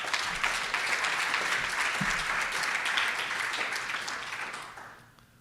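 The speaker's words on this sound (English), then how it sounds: "So let's give them a round of applause." Sustained audience applause at a scientific conference's opening session, a dense wash of many hands clapping at steady loudness that fades out over the final second.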